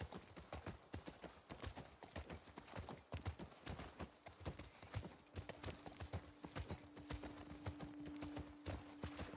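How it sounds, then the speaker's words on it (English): Horse hooves clip-clop in a steady rhythmic walk in The Last of Us Part 2, loud and close, continuing throughout as a soft tonal hum enters partway. "You'd have to leave the horses here."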